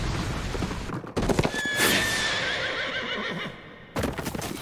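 A horse neighs loudly in an action scene from the Dororo anime, its shrill whinny rising over booming blasts and hoofbeats, with a sharp break of near silence before the clatter returns.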